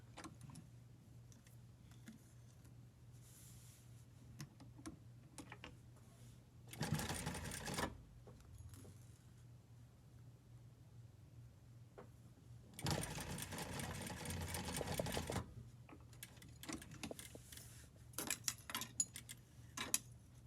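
A sewing machine bastes a seam on a cowl neck blouse, running in two separate bursts of steady stitching, each a few seconds long, with quiet handling sounds in between.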